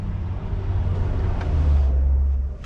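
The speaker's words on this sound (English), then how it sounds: "That's the bin lorry just passed." A bin lorry rolls past outside, a low engine rumble that swells toward the middle and fades again over a few seconds, moderately distant and without speech.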